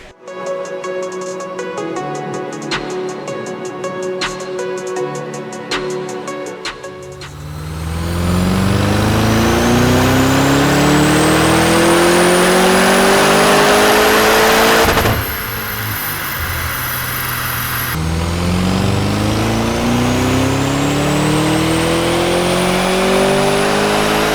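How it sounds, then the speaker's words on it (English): A tuned Audi RS6 with a downpipe, soft limiter removed, revs hard toward the red line while standing still: a loud, sustained engine roar rising steadily in pitch, falling back briefly, then climbing again, with clicking and lighter revving at the start. "We're going to remove the 4000 soft limiter on the car right now so we can rev it up the red line at static mode."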